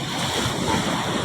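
Ocean surf at a beach in La Union, Philippines, a steady broadband wash of waves with wind noise on the microphone, continuous and moderately loud with no talk.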